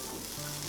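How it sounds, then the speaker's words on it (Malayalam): Butter sizzles in a heated pan, a soft, steady frying hiss that stays faint and even throughout the brief moment. "ഒരു പാൻ ചൂടാക്കി അതിലേക്ക് കുറച്ച് ബട്ടർ ഇട്ടിട്ട്"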